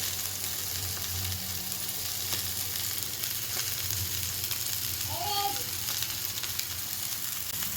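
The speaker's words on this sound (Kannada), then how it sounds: "ನಮ್ಮನೇಲಿ ಆ್ಯಕ್ಚುಲಿ ಇವತ್ತು ಬಂಗ್ಡೆ ಮೀನು ಫ್ರೈ" Indian mackerel (bangude) fish frying in a pan in a home kitchen, giving a steady, close hiss of sizzling oil that holds evenly throughout with no voices.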